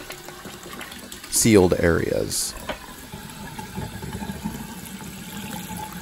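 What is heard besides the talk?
water running into a brass shower drain during test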